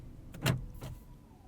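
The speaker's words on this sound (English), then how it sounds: "Hear the handbrake engage there." A short mechanical ratcheting pull of the handbrake inside a 2019 Mazda3 AWD sedan, two quick bursts close together, fairly quiet with no talking.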